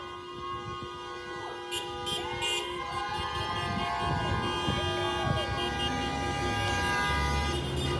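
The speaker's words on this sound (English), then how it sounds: "So you're gonna hear a lot of more people honking." Car horns blare at a street protest outside Disney Studios in Burbank, sustained overlapping honks mixed with traffic noise at moderate distance, continuing steadily throughout.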